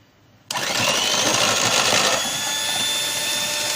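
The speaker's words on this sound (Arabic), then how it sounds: "وغادي نخدمو بالباطور دائما" An electric hand mixer whirs into action beating cream for a New Year dessert, starting abruptly and running as a steady, loud, close motor hum, briefly higher before settling slightly lower, with no talking.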